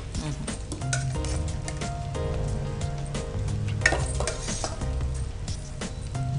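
Onions added to a cabbage biryani pot, giving a steady loud sizzle with faint clinks of a utensil against the pot throughout, background voices low.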